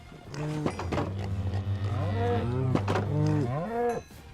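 Several Minecraft cows moo one after another in long, drawn-out, low calls, close and loud, with slight overlap between them.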